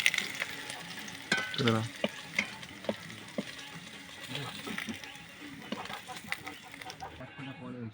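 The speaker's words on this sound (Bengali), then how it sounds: "ফোড়নে কালো জিরে দিলাম দিয়ে আলুটা দিয়ে একটু লাল লাল করে ভেজে নেবো" Potatoes fry with black cumin seeds in oil in a pan with a steady sizzle, punctuated by the scrape and clatter of stirring; a voice speaks intermittently over the cooking.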